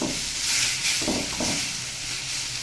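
Boiled greens fry in oil tempered with black cumin seeds, a close, steady hiss and sizzle with a couple of soft stirring swells in the middle, and no voices.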